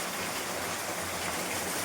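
Rainwater leaks through a house roof and falls steadily onto the stove and floor, a constant, dense rushing patter with no pauses, close and even throughout.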